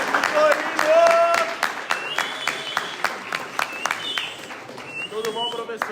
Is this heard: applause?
yes